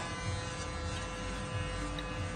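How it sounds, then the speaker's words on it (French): Electric clippers shave a head bald, giving a constant close, low mechanical buzz that holds steady throughout, with slight changes in tone as the blade moves, and no talking. "il était temps pour moi d'aller sur une seconde étape et qui était vraiment de raser la tête et faire une boule à zéro"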